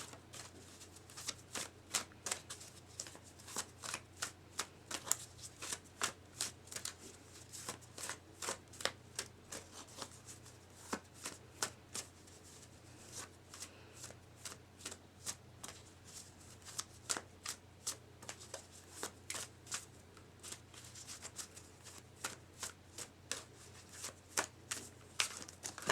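Cards being shuffled over and over, quick riffling bursts in an uneven rhythm, close and fairly quiet with a low hum underneath.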